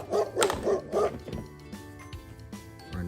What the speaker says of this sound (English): Our next one is a dog.